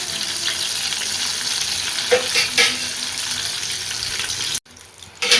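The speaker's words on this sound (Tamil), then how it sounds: "அதாவது நல்லா நம்ம பொரிச்சு எடுத்துப்போம்" Chicken cones deep-fry in hot oil with a loud, continuous close-up sizzle and crackle, which briefly cuts out near the end before returning.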